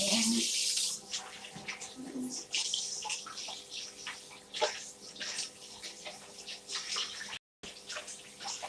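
Tap water runs over a piece of chocolate being quickly rinsed in a home kitchen, a steady splashing flow with small clinks and bursts as it is moved under the stream, fairly close.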